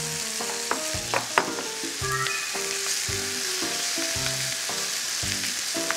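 Sweet potatoes sizzle and crackle steadily as they fry in a pan over medium heat, with frequent knocks and scrapes of a utensil stirring them, close and fairly loud throughout with no talking.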